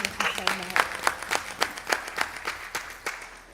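Hand clapping at a village board meeting in Broadview, a small room of people giving a distinct, fairly loose round of claps that tapers off, with voices under it.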